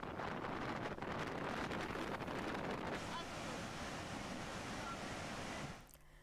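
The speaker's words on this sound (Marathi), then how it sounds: "पाणी भिंतीवरून ओसंडून वाहत असल्याचं दृश्य पाहायला मिळतंय" Water spilling over the wall of a dam filled to full capacity after rain, heard as a loud, steady rushing roar that fills the whole clip and drops slightly near the end.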